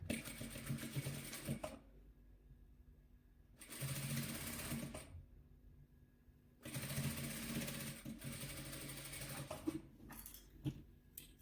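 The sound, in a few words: sewing machine stitching patchwork quilt squares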